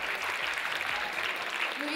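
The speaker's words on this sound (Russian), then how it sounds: "ваши аплодисменты!" Audience applause at a KVN comedy show's 1/8 final, a steady wash of clapping across the whole stretch with crowd noise and possible voices underneath.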